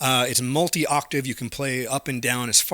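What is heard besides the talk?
No everyday noises stand out.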